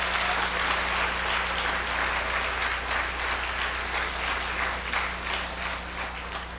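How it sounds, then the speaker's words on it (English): Steady applause from a concert audience greeting a Hall of Fame inductee at a calypso event, a dense even wash of clapping that holds for several seconds with a faint low hum underneath. "Give them a nice round of applause."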